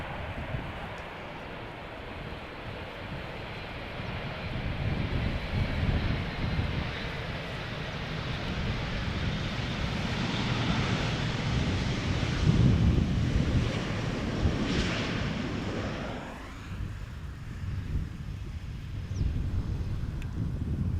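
KLM Boeing 777 'Orange Pride' PH-BVA landing at Schiphol after a flight from Vancouver: a moderate, distant jet rumble swells and fades over about twenty seconds under steady wind buffeting on the microphone, with no voices.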